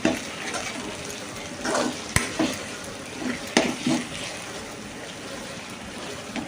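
Brinjal and tomato curry is stirred in a pan over steady frying sizzle, with a few distinct spoon scrapes and knocks against the pan, close and moderately loud.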